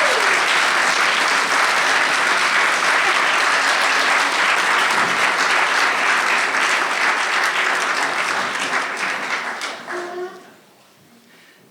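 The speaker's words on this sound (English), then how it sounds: "Or give her a clap." An audience in a goods shed venue in Stroud gives a speaker a long, loud round of applause. The sustained crowd clapping stays full for about ten seconds, then quickly dies away into near quiet.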